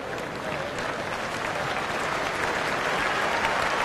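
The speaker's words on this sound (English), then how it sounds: "the usual generous sympathetic applause" A rugby crowd at the 2003 World Cup match between Italy and Tonga applauds an injured player as he leaves the field. The clapping is steady, sustained and fairly loud, blending into a continuous roar of many hands.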